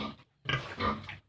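A pregnant sow, overdue at about 115 days, gives a couple of low, rough grunts close by, one short and one longer, with brief silence between.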